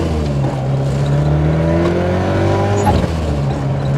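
A 411 bhp Ford Sierra Sapphire Cosworth accelerates hard, its engine note climbing steadily in pitch as revs rise, then dropping sharply at a gear change and pulling again; loud and close from inside the car.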